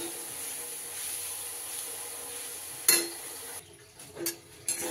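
Kalai shak greens are stirred in a pan to cook off the remaining water. A steady hiss runs underneath a few distinct scraping strokes of the spoon near the end.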